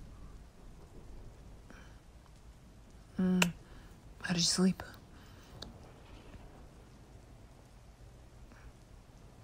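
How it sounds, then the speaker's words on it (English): Steady rain patters in the background while a person speaks briefly in a low voice, with a soft distant rumble. "it looks dark because it's raining"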